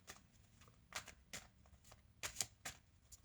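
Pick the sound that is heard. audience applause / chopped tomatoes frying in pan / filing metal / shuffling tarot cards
shuffling tarot cards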